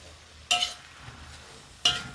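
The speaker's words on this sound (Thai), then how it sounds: "ผัดไปเรื่อย ๆ" Chinese kale stir-fried in a pan, two sharp bursts of sizzle and scraping roughly a second apart over a quiet steady hiss, close by.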